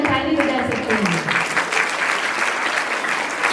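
Dense crowd applause fills the room at a Brahma Kumaris centre inauguration, steady and loud throughout, with a voice speaking briefly over the start.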